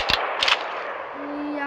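In the Free Fire video game, an AWM sniper rifle fires a headshot, two sharp, loud shots half a second apart, followed by a fading ring and a faint electronic tone.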